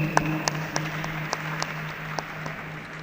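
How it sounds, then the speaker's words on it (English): Scattered applause from a debate audience honouring the Dean of Students, a thin spread of hand claps with a few sharper ones over a steady low hum, fairly faint and without talk. "Kindly let us give our Dean of Students a round of applause one more."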